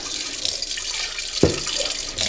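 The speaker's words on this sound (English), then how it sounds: "And then I just rinse out the bowl." Tap water runs into a bowl to rinse out buttermilk after butter making, a steady close splashing with a brief knock of the bowl partway through.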